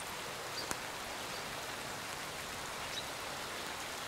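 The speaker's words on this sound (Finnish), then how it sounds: "Nyt täällä on vesisade." Steady rain falls outdoors, a dense, even hiss of drops on surfaces throughout, with a sharp brief tap near the start and no voices.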